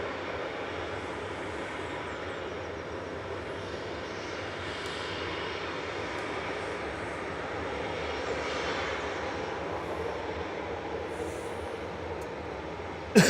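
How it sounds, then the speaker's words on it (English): A TUI Boeing 737-800 leaves Manchester Airport for Alicante, a sustained jet engine rumble holding steady and fairly close, with a brief knock right at the end and no speech. "This is TUI off to Alicante, 737-800 GTAWV, flight 2620."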